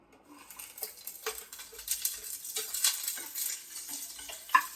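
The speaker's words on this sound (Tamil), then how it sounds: "வெங்காயம் கொஞ்சம் நல்லா வதங்கட்டும்" Onions sauté in about one and a half spoons of oil in a kadai, with a soft sizzle under repeated scrapes and taps of a stirring spoon against the pan, close and fairly quiet.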